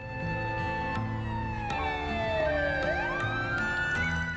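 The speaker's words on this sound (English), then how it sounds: "A police siren?" A wailing police siren in Trails Through Daybreak II rises and falls steadily over a background hum of game music, loud and continuous with no voices.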